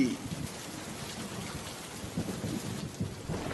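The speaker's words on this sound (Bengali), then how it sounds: "কতদিন পর বৃষ্টিতে ভিজছি" Heavy rain pours down in a dense, continuous roar, with low rumbling beneath and occasional louder splashes nearby.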